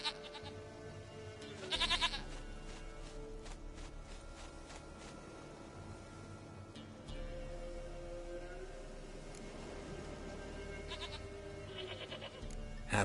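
Goat bleating in The Witcher 3: Wild Hunt, one sharp bleat early on, then a quieter stretch of game ambience, with another bleat near the end.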